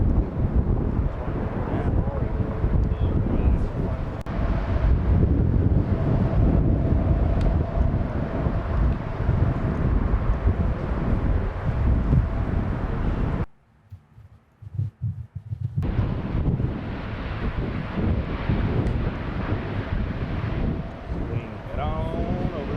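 Strong wind buffets the open ground of a golf course during the round-two play of the Santa Maria Open, roaring steadily and loudly across the microphone, dropping out briefly before the gusts resume.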